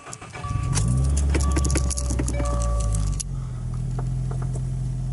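A Subaru WRX with a suspected faulty sensor, 30k miles, starts with a brief crank and jingle of keys, then settles into a loud, steady low engine idle.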